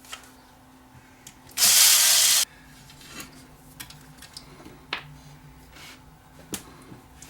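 A ground wire screw is undone and pulled from a mystery electrical device, with a short loud burst of a powered driver followed by faint scattered clicks and small metallic handling sounds over a low hum.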